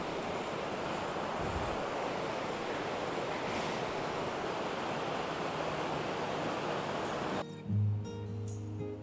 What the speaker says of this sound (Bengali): অনেক জল না থাকলেও জলে কিন্তু ভালোই স্রোত রয়েছে।